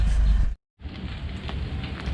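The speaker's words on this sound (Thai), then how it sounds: "วันนี้ก็ อากาศไม่ค่อยดีเท่าไหร่ครับฝนตกไปครับ" Steady rain falling outdoors on a gloomy day near the Pa Sak River in Ayutthaya, a continuous broadband hiss that cuts out briefly and then resumes at a fairly even level.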